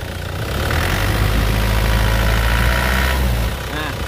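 A 2012 Isuzu Panther LV 2.5 turbo diesel engine is revved up with the hood open, a loud, close, rough rumbling drone that holds steady for a few seconds before dropping back toward idle.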